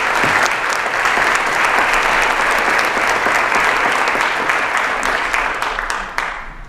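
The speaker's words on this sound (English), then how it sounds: "Just a round of applause for all of our students here." A high school auditorium audience at a National Honor Society induction ceremony applauds its students with dense, sustained clapping that holds steady at full strength before tapering off near the end.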